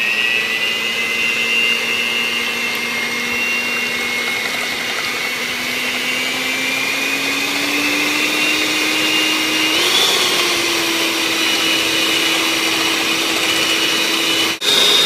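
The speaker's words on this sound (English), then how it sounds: "Turn the mixer back on and let's go and whip the egg whites." An electric mixer whips egg whites for a Polish cheesecake, a loud, steady continuous whir close to the microphone with a slight rise in pitch toward the end, no voices over it.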